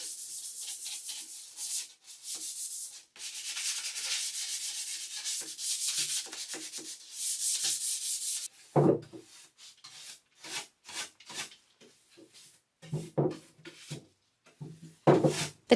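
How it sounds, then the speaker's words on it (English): Steady back-and-forth hand sanding on wood with a 220-grit sanding sponge, long rasping strokes in a rhythmic series, followed by shorter scuffs and knocks with brief pauses. "The rounded legs and the detail I hand sanded with a 220 sanding sponge"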